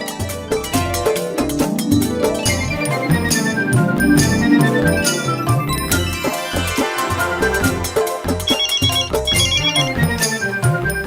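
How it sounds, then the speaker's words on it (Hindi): A loud, continuous musical ringtone plays while a phone call is being placed in a Hindi sitcom scene, filling the whole stretch with busy melodic tones and no talking. "उनसे फोन करके पूछ लेता हूँ"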